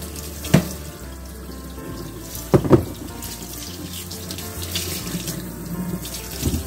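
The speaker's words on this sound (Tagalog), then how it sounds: "So guys, hugasan ko siya." Cucumbers from the garden are rinsed under a running kitchen tap, a steady stream of water splashing into the sink with a few louder splashes and knocks as the vegetables are handled, no talking.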